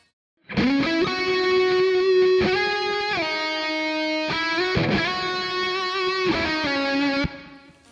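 A Friedman Handwired 100-watt guitar amp playing sustained distorted chords drenched in reverb, each chord ringing out loud and close with smooth changes and a wet tail after the final cutoff.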